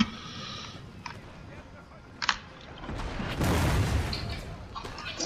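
Cannon artillery booms in a Napoleon: Total War multiplayer battle, several distant thuds followed by a sustained rumbling roar of fire under gameplay noise.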